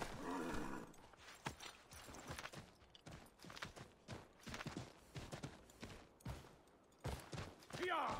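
Horse hooves clip-clop and the horse whinnies in Assassin's Creed 3, heard as quiet, uneven thuds mixed with other game sounds and distant gunfire-like bursts.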